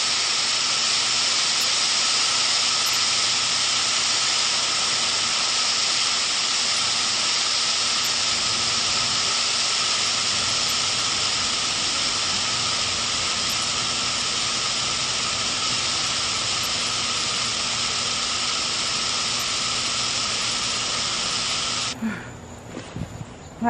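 Continuous loud hiss of an aerosol insecticide can spraying into a paper wasp nest, one unbroken blast lasting over twenty seconds before cutting off, with a brief clatter at the end.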